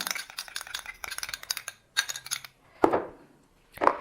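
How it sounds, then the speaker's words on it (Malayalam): A facial pack being mixed with aloe vera gel in a small container: quick light clicking and tapping strokes in short runs, then a few sharper isolated knocks with pauses between, close and fairly quiet, with no talking. "അതിനുശേഷം ഇതെല്ലാം കൂടി നന്നായിട്ട് മിക്സ് ചെയ്യുന്നു."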